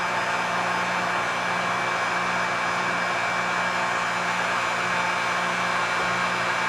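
A heat gun blows steadily on freshly applied orange paint on a fishing lure, a continuous, even airy roar with a low motor hum underneath, close and unbroken throughout.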